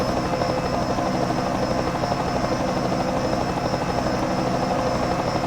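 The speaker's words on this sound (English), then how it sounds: "Tony, I really gotta get you that updated helicopter sound effect." A helicopter's rotor thumps steadily and continuously, a loud, close whirring drone with no voices.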